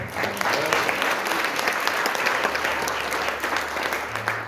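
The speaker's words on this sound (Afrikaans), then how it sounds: "En ek wil graag vir almal wat vanaand hier is, klap vir hulle hande." Church congregation applauding candidates for baptism at an evening service, steady dense clapping sustained from start to finish, with faint voices and a low hum beneath.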